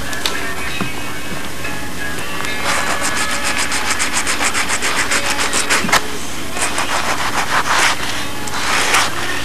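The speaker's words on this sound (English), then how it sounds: "Now I'm going to get the sandpaper and just try to work some folded up sandpaper into these grooves." Folded sandpaper rubbed back and forth in the grooves of a model Spitfire aircraft's cockpit or canopy detailing, steady close scratchy strokes that grow into a rapid rhythmic series of rasps, loud and alone.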